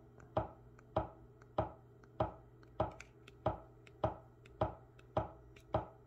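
A broken WEMAX projector gives sharp, evenly spaced clicks, about ten in six seconds, close and alone over a faint steady hum.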